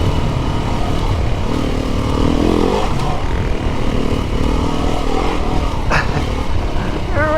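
A Beta 390 RR dirt bike rides a byway trail in Surrey, its engine a loud, continuous, throbbing drone with rough rises in throttle, heard up close throughout.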